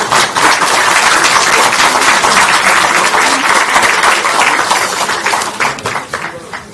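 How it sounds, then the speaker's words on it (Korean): Loud, sustained applause fills a Democratic Party lawmakers' general meeting as the party leader is welcomed, dense clapping holding steady for several seconds before tapering slightly at the end. "뜨거운 박수 많이 필요합니다."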